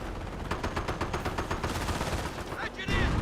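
An MG42 machine gun in Company of Heroes, rattling in rapid continuous bursts of dense rhythmic shots amid battle din, fairly close and loud over the whole stretch.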